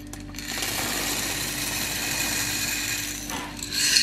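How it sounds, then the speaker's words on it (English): Dry chickpeas used as baking beans pour into a quiche pastry case, a dense continuous rattling patter that holds steady for about three seconds before easing off. "since I do not have baking beans, these dry chickpeas shall have to suffice"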